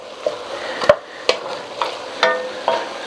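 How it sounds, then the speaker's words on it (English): Onions cooking down in a pot for a green chile stew, soft sizzling under five or six distinct scraping stirs of a utensil, close and spaced about half a second apart. "these onions have been cooking about 10 minutes. I've been in here giving them a little stir every now and again."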